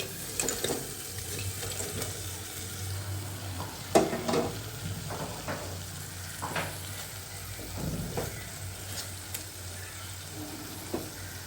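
A quiet background sizzle runs under scattered scrapes and knocks of a spoon stirring fried fish into masala in a pan, with faint water-like hiss throughout.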